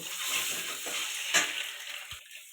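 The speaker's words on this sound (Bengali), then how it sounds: "দিয়ে লাল লাল করে ভেজে নেব" Eggs fry in oil in a pan with salt, turmeric and chilli powder, giving a continuous close sizzle with one brief scrape partway through and no voices.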